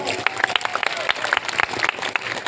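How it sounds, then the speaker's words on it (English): Students at a school Children's Day celebration give a round of applause, a brief burst of scattered, uneven claps with crowd noise, fairly close and lively. "Students, give a big round of applause."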